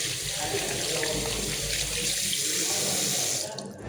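A tap runs steadily, water splashing into a sink nearby in a constant rush that cuts off just before the end.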